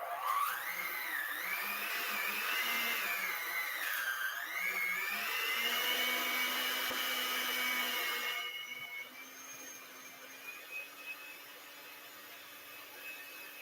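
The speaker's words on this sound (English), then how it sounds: "I use that industrial KitchenAid." An industrial KitchenAid stand mixer whirs loudly with a wavering motor whine, then drops to a quieter, lower hum partway through, with no voices over it.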